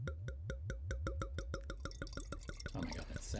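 Hampton Water wine glugs from the bottle into a glass in a quick, steady run of close, even pulses that loosen into a splashy trickle at the end, with no talking.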